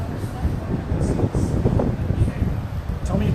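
Gusty wind rumbles across an outdoor microphone as a steady low roar, with people talking over it at a small gathering.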